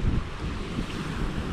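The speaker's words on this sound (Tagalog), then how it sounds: "Malakas ang alon mga kalingap, kaya medyo nakakatakot po." Strong sea waves churn around a small boat out at sea, a continuous loud rushing roar mixed with gusty wind buffeting the microphone.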